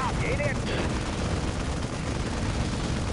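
Rapid Gatling gun fire from a Dawn of War strategy game battle between Imperial Guard armies, a dense continuous rattle packed into a loud wash of battlefield noise, with brief whistling tones early on.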